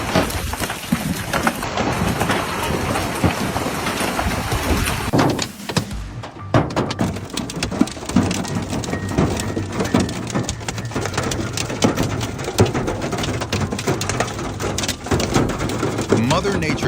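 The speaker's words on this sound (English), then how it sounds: "Mother Nature did not send down raindrops today, but instead, a barrage of ice bullets testing everything below." Heavy hail pounds down in a dense, continuous roar across the whole stretch, with a brief lull near the middle before the loud pelting resumes, steady and close.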